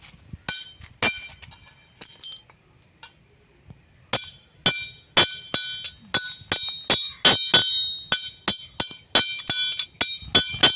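An iron chisel is struck with a hammer to cut iron at a metal patch-work shop in Aluva, making sharp, ringing metallic clinks: a few scattered blows at first, then a fast, steady run of close, loud strikes.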